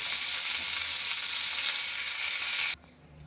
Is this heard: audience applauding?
no